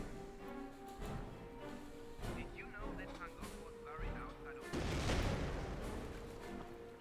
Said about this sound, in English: Oh, something exploded there. Mortar.